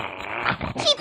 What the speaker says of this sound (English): That dog's trying to steal the steak.